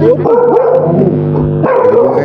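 A dog barks loud and close, a couple of sharp yelping barks with a whimpering, whiny edge between them, standing alone without talk.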